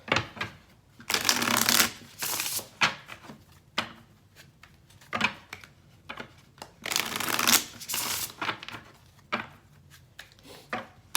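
Cards are shuffled in several quick riffling bursts, close and crisp, with short pauses and light handling sounds between them.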